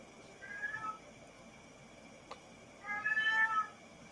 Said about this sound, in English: That is Sonic's cat, Orion, shouting at him downstairs